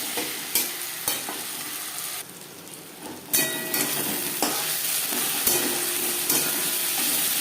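Onion and tomato fry and sizzle in a pan while being stirred, a steady loud hiss with scraping stir strokes, briefly quieter midway before the sizzle surges back, while fish-head and Malabar spinach curry is being cooked.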